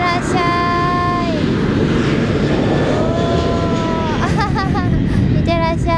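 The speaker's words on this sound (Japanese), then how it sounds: "飛行機が降りてくるね。" A passenger airliner landing at Itami Airport roars loud and close overhead from the Senri River embankment, a steady broadband engine rumble filling the whole clip, with shrill cheering and speech from onlookers over it.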